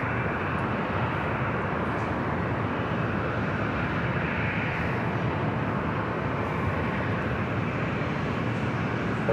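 A Delta Airlines jet at LAX produces a steady, distant roar of broadband engine noise that holds constant and fairly faint throughout, with no voices present.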